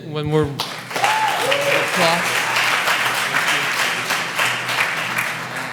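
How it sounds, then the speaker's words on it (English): A crowd claps for the presenters after a design talk session. A voice speaks briefly at the start, then the applause stays sustained and even throughout. "Can we have one more applause?"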